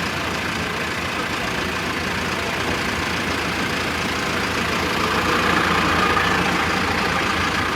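A 75 HP CRDI diesel tractor engine runs steadily at idle, a continuous low rumble close by with no voices.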